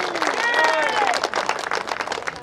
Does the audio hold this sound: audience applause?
yes